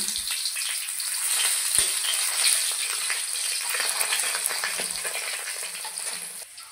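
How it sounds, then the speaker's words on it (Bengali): Thin, lengthwise-sliced potatoes fry in a pan with a steady, close sizzling hiss that holds through the whole stretch, with no talking. "প্রথমে আমি আলুটাকে ভেজে নেব।"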